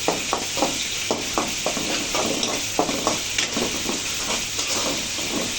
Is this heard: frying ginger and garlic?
yes